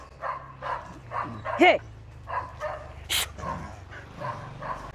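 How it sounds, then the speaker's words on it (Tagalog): A leashed mixed-breed dog barks at a stray dog in a series of sharp, repeated barks about every half second, with one higher yelp. A person talks over the barking. "At ang pinaka-problema ni Cristel ay kapag nakasalubong sila ng asong gala, sukdulang mabigti sa tali si Tochi, maabot lang ang asong gala"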